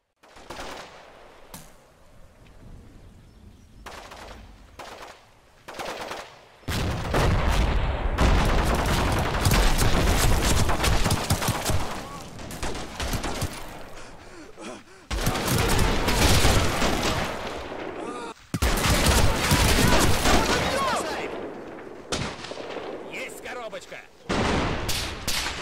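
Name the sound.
enemy gunfire intensifying in a war strategy video game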